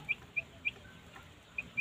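A hen on a farm gives five short, faint clucks spaced unevenly against a quiet background.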